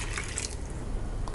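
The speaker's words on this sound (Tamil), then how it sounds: "தண்ணி ஊற்றிக்கலாம்." Water pours into a cooking pot of green peas pulao, a steady close splashing and trickling over the sizzle for the whole moment.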